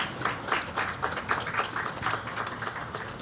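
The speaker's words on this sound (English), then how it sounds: "Ladies and gentlemen, a round of applause." Modest applause from a small audience at a port ceremony sealing a time capsule, a sparse, fairly quiet patter of individual claps with a loose rhythm.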